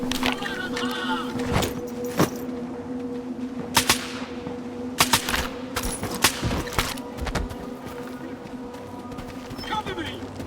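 Gunfire in the shooter Stalker 2 crackles through a busy battle, with sharp shots and short bursts at a steady pace among constant ambient noise and frequent shouted voices.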